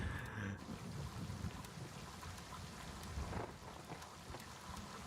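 Rain in the video game Gray Zone Warfare falls as a steady hiss with low rumbling like thunder, constant and enveloping, with no voices.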